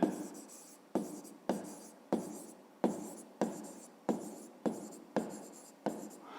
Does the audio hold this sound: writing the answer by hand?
yes